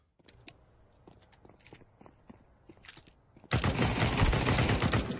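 Rapid gunfire in Counter-Strike 2, heard as a loud, dense burst of automatic shots that follows scattered footsteps and light clicks.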